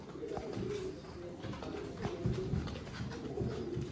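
Soft, low coos from breeder pigeons repeat in short throaty bursts over a steady background hum, moderately close but fairly quiet.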